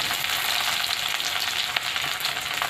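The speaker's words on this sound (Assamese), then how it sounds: "এয়া আমাৰ পিঁয়াজখিনি ৰঙচুৱা হ'ব হৈ গ'ল এতিয়া আমি ইয়াতে নহৰুখিনি অকণমান নহৰু" Garlic and onions fry in oil, making an even, hissing sizzle that stays steady and close, with faint small crackles and no voices.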